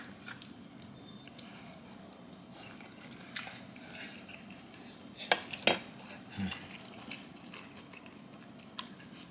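Someone tastes brisket Philly cheesesteak filling, with soft, close chewing and bites and a few sharp clinks of a utensil against a dish over a quiet kitchen background.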